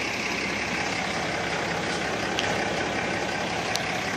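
A 2012 Dodge diesel truck idles close by with a steady, unbroken rumble and hiss that holds at one level throughout, with a couple of faint ticks above it.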